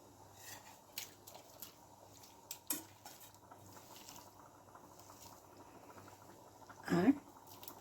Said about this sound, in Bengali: এবারে আমরা এখানে চিকেনটা মিশিয়ে দেবো